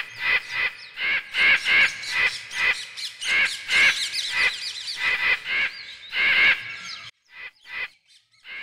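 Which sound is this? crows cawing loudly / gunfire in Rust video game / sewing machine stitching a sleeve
crows cawing loudly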